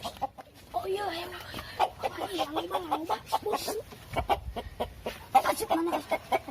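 Chickens cluck repeatedly at close range in a village yard, with choppy, uneven bursts and a few drawn-out calls, mixed with rustling and brief voices in a Sundanese comedy scene.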